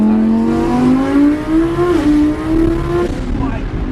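A twin turbo Lamborghini accelerating hard, its engine rising in pitch through the gears in a loud, close roar, with people talking excitedly over it.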